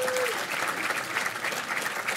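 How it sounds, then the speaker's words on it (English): Audience applause at a hackathon launch event in an office, dense clapping from a crowd welcoming the next speaker, steady and fairly loud throughout, with a brief tone near the start. "Everyone give him a round of applause."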